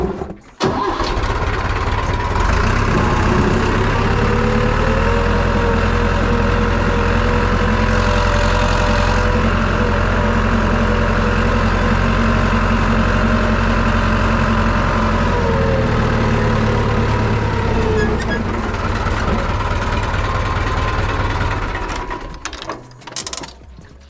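A tractor engine runs steadily and loudly throughout, a low mechanical drone with a shifting tonal whine in the middle, as the tractor keeps rolling backward with brakes and handbrake failing to hold, fading near the end.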